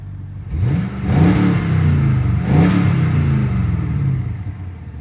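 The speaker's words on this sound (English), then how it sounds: "Give it a little rev." A 2011 Chevy Camaro SS convertible engine revs twice in quick succession, loud and close, each blip rising sharply and settling back to a rumbling idle.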